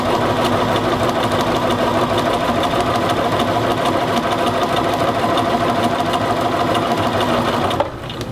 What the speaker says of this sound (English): I'm going to do is E-stitch right along the edge of the armscye between the notches